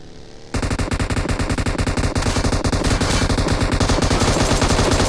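Sustained, loud machine-gun fire in the mobile battle-royale game PUBG Mobile, starting abruptly after a short quiet lead-in and continuing as a dense, rapid stream of shots to the end.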